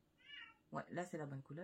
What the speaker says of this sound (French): Désolée pour le chat.